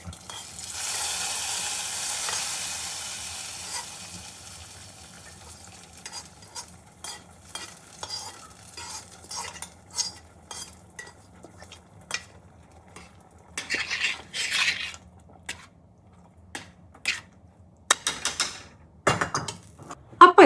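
Roasted coconut for an Onam pumpkin erissery stirred in a pan and scraped into the curry, a soft sizzle at first giving way to scattered spoon scrapes and clanks of metal against the pot.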